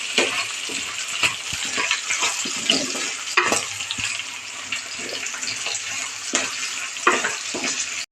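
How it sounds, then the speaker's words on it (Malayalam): Fish curry base being sautéed in a pan, with a steady sizzle and scattered scraping clicks of a spoon moving through the mixture throughout. "നല്ലതുപോലെ വഴറ്റിയെടുക്കണം."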